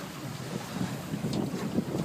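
A steady motorboat engine drone with wind buffeting the microphone and water rushing past, continuous and close, recorded while driving the boat, with no talking.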